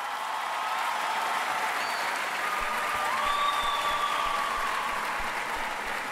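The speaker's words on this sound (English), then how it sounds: "thank you for your applause" Sustained applause sound effect in the dating game Romancelvania, a dense even wash of clapping that holds steady for several seconds, loud and alone with no voices over it.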